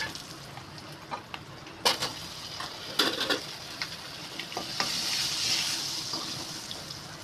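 Curry leaves and turmeric hit hot oil with mustard seeds for a Maharashtrian dahi kadhi, giving a steady hiss and crackle with a few sharp pops and clinks that swell into a fuller sizzle.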